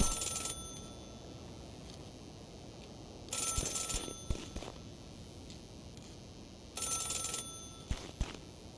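Ringtone of a telephone in Celeste, a video game, ringing in three short loud bursts a few seconds apart, with faint clicks and game sounds between rings.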